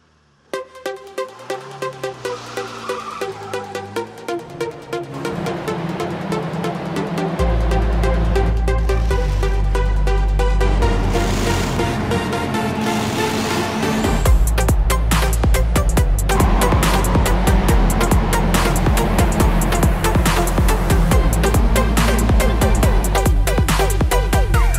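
Racing cars in the video game Circuit Superstars, with loud, dense engine roar and revving under a driving music track, building from sparse beats into a continuous full-volume mix.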